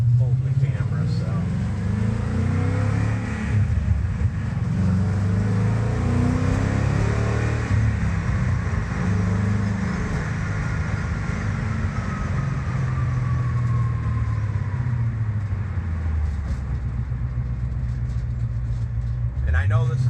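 A 1966 Ford F100 truck, fuel injected on a Mustang GT chassis, drives with a steady low engine drone that rises and falls through gear changes, heard from inside the cab with constant road rumble.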